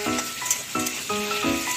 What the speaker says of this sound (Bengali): নুন দেওয়ার পর আবার একটু নাড়াচাড়া করে দিলাম